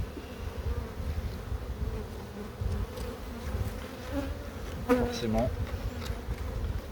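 Honey bees hum low and steady at an open hive while frames are checked, a soft continuous drone with a few faint voices and a brief clatter partway through.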